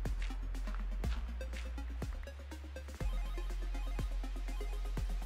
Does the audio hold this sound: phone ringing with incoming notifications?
yes